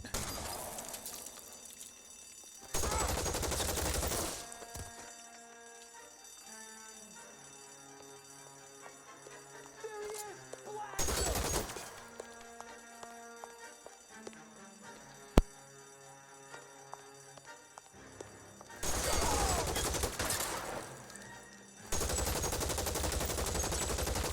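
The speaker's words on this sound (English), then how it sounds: "I just killed you with your buddy's gun, too." Gunfire from the video game L.A. Noire comes in three loud, dense bursts of rapid shots, separated by quieter stretches of tonal game music.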